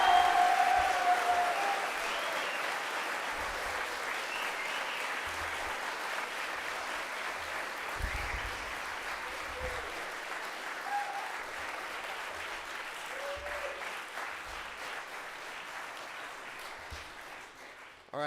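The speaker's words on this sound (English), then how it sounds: "Let's get a round of applause for Mrs." A round of applause from the congregation at a school chapel service in a large hall, sustained dense clapping that slowly fades over many seconds, with a few faint voices mixed in.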